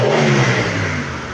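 A car engine, just set back to an idle of around 800 RPM after its idle speed control was adjusted, revs up loudly and steadily close by, with the roar easing slightly toward the end.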